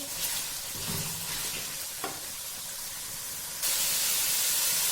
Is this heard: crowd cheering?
no